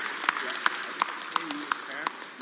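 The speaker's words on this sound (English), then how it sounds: "please give applause to Dr. Fellow Selfrey" A few people clap in a sparse, fairly regular rhythm, a thin round of applause with faint voices underneath, for a presenter at an online education sharing session.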